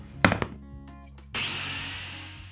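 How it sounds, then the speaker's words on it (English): Biscuit joiner plunging into a wooden piggy bank board, first a few sharp wooden knocks and clunks, then the motor starts with a sudden whirring rush that slowly fades, close and fairly loud. "The biscuit joiner turns out to be a great tool for making the slot."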